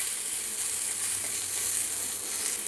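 Dry coconut and spices roasting in a pan, giving a continuous bright sizzling hiss that stays even and close for the whole moment with no voices.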